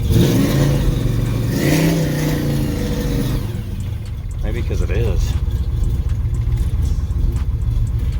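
Car engine revving loudly up close with a deep throaty rumble, rising and falling over several seconds while a person speaks briefly over it.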